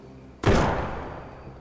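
A single loud gunshot sound effect from an audio drama about werewolves cracks out of near silence, then decays into a lingering rumbling echo.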